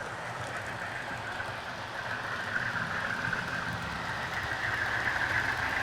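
A model train runs at full power across a viaduct on a model railway, giving a continuous, even rolling rumble with faint rail clatter throughout and no talking.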